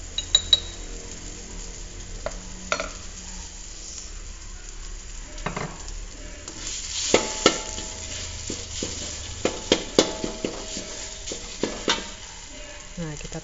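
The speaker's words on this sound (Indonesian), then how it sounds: "kita oseng-oseng dengan api kecil" Lemongrass, ginger and torn lime leaves are stir-fried over low heat for asam padeh, with a gentle steady sizzle broken by scattered clinks and scrapes of a utensil against the pan.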